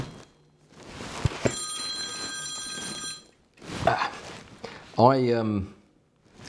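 A phone rings once during a live stream, a bright multi-tone electronic trill lasting a couple of seconds. Rustling and handling noises come before and after it, and a voice speaks near the end.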